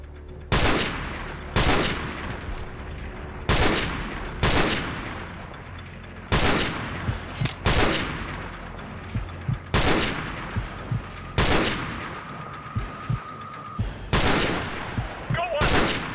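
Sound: gunfire in video game Call of Duty 4: Modern Warfare

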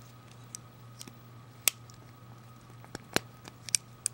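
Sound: multitool scissors opening and closing

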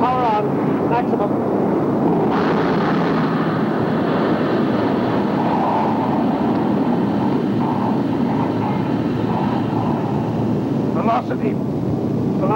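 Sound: spaceship speed jet engine at maximum power

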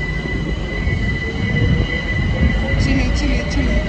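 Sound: London Overground train arriving at station

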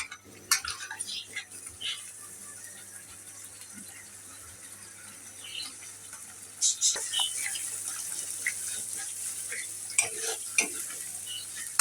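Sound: spice paste frying in a pan

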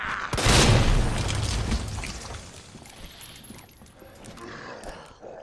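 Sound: grenade explosion in video game Resident Evil 2

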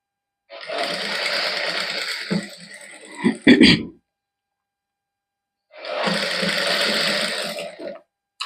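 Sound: sewing machine stitching lace onto a sleeve

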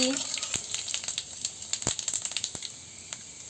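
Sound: dried red chilies and panch phoron sizzling in hot oil

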